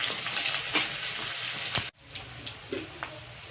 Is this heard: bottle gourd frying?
yes